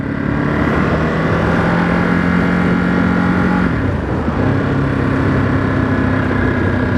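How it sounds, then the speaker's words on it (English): A 2023 Ducati Monster SP engine hums steadily at moderate revs while riding in second gear at 30 mph, a loud close drone with a brief dip in pitch midway. "running at 30 miles an hour, second gear, this bike is absolutely fine."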